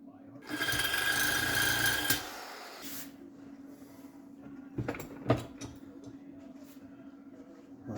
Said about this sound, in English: I went ahead and I welded two Sawzall blades together to be able to cut out my slot.